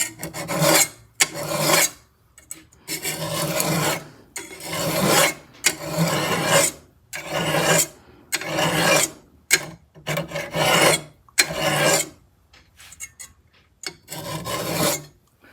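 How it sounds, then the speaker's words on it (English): Rhythmic rasping strokes of a metal file dressing a knife blade, about a dozen long back-and-forth passes with short pauses between, close and loud, no voices. "maybe I can make it a little bit better by dressing it with the file just a little bit"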